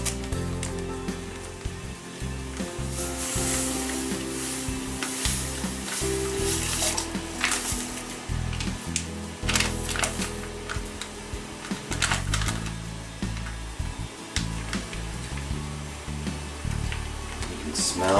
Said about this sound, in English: I want to whisk it around good because it'll want to stick on the bottom